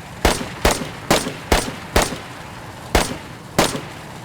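Seven sharp, evenly spaced gunshots ring out from a weapon fired from a UAZ vehicle in the DayZ Expansion mod video game. Each loud crack decays quickly, with short quiet gaps between shots.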